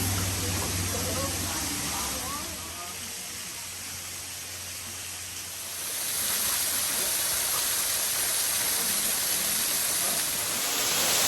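Waterfall at Hanging Rock State Park, North Carolina, a steady broadband rush of falling water close by, dipping slightly in the middle then swelling louder, with a low hum early on.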